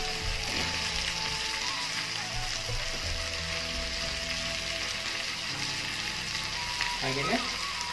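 Spices, tomato and onion fry for Malnad-style sambar, a continuous close sizzle and crackle in the pan with occasional faint stirring, no voices.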